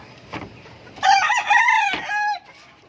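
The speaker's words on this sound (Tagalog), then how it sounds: "ito yung stag" A young gamecock stag crows once, loud and close, a drawn-out harmonic call lasting over a second, with a few softer clucks and rustles before and after.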